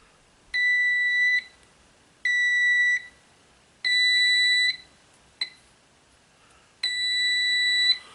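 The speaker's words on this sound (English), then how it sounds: "You just get the beep." An electrical circuit tester gives five electronic beeps in a steady on-off pattern, each a clear high-pitched tone of varying length, one very short, with quiet gaps between.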